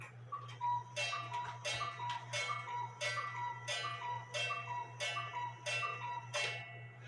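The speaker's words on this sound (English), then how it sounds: "We're going to make this thing go off at 9 o'clock." A cuckoo clock with a rack and snail striking movement goes off for nine o'clock: a steady run of about ten evenly spaced ringing strikes and calls, close and clear, over a constant low hum.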